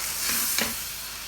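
Mutton sizzling as it is browned in a pan, a brief close burst of frying hiss with a quick scrape of stirring near the middle.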